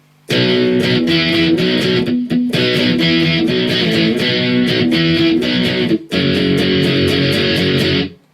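A distorted electric guitar plays the verse riff of a song alone, loud, thick palm-muted power chords pulsing in a steady rhythm, with two brief pauses between phrases.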